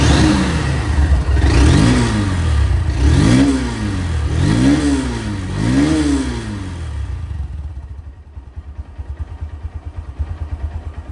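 A 2024 Honda Hornet motorcycle engine, loud and close, revs up and down four times in a steady rhythm, then drops back to a rough, pulsing idle.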